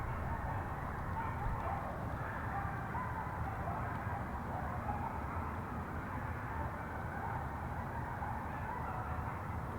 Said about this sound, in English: And listen to some coyote.